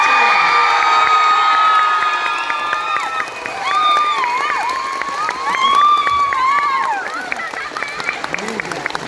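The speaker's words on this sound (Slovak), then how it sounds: "Ešte im dajte potlesk." An audience at a cosplay catwalk at a comics convention applauds and cheers, a dense sustained roar of clapping, whoops and shouting that swells midway, with an announcer's voice carrying over the crowd.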